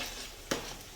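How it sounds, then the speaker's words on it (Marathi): Garlic, ginger and tomato sauté on full flame, giving a soft, steady sizzle with a single sharp stirring scrape or clink midway. "हे सर्व फुल गॅसवरच परतवायचं आहे।"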